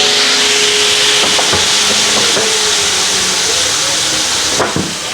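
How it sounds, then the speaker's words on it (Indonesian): Blended rendang spice paste sizzles and hisses in a hot pan, a loud, steady frying hiss with a few scraping stirs near the end. "Ini kita masukkan semua, kita tumis dulu."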